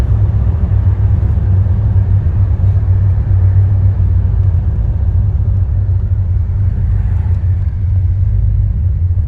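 Low, steady engine rumble from a Chevrolet 454 SS OBS pickup truck as it drives and eases off speed, a constant loud drone heard from inside the cab without talk.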